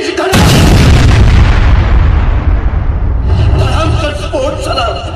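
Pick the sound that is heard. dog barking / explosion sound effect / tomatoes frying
explosion sound effect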